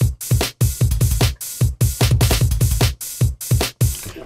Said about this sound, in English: I just made this very synthetic old dance type drum beat